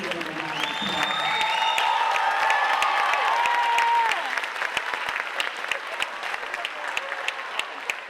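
An audience at an 8th grade bridging ceremony claps loudly for graduating students; applause swells and holds for about four seconds, then thins into scattered claps.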